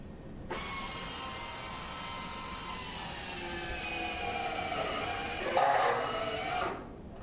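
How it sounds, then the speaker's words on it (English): A cushion-clutch screwdriver set to mid-level torque slips its clutch in a continuous rapid ratcheting clatter that starts abruptly, runs for several seconds with a brief louder burst near the end, then stops. "As you can see by the ratcheting noise, the proper torque has been achieved at the mid-level torque range of the cushion clutch screwdriver"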